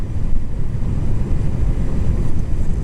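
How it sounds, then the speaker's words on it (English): Steady, loud wind roar buffets the microphone while riding a Harley-Davidson LiveWire electric motorcycle, a continuous low rumble with no engine note and no talking. "I can feel the wind hitting me directly in the chest"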